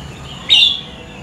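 A single short, bright chirp from a female songbird of the Bahorok line, loud and close against a quiet, low background hum.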